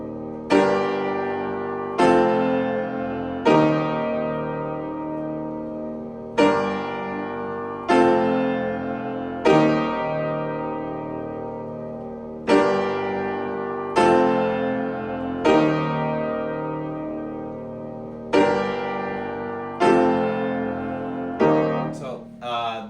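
A piano plays a simple chorus chord progression, with struck chords repeating at a steady pace over about twenty seconds. Each chord rings and decays before the next one, with no voice present.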